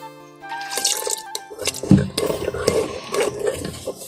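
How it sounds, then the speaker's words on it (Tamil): A ladle of water splashes and trickles into thick dosa batter, with dripping and stirring sounds, close by, no one talking. "இந்த கரண்டியால் நான் ஒரு கரண்டி தண்ணி தான் விட போகிறேன்."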